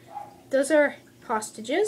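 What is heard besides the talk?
dog barking outside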